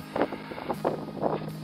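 Cold wind gusts across the microphone at a freezing winter beach at Weißenhaus on the Baltic coast, a loud buffeting rumble in rhythmic waves, with no voices.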